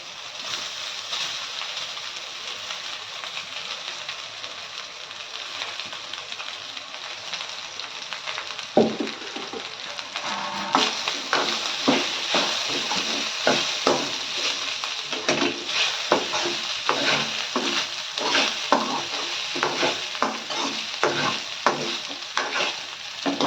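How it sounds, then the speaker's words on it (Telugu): Rice tipped into a hot pan of frying tomato masala for tomato rice, then stirred with steady scraping and sizzling; a soft thump as it goes in, followed by repeated close stirring strokes over continuous frying hiss. "ఇప్పుడు ఇందులో ఒక రైస్ వేసుకుందాము"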